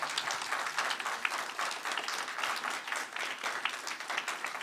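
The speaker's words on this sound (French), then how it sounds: "je pense qu'on peut les applaudir." A seated audience applauds at the close of a round-table conference on sound in the media, giving a dense, steady, evenly sustained clapping that fills the room at moderate loudness without pause.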